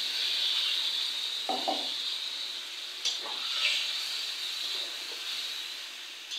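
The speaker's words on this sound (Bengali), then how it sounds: "একটু পানি দিয়ে দিচ্ছি।" Water poured into a hot pan of fried potato and pointed gourd for a fish curry, giving a continuous close hiss and sizzle with a few soft splashes and scrapes.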